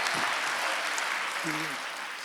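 A church congregation at a Wednesday worship service bursting into applause, a broad wash of clapping from many hands with a brief voice heard over it.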